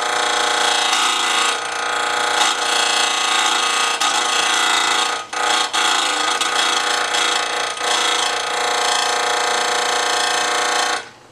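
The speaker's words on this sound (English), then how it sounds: "the rewind, it made an awful noise" Wollensak 3M Model 1520 reel-to-reel tape machine rewinding with a fault, a loud harsh continuous screech and grinding whine, sustained for several seconds with one brief dip midway before cutting off.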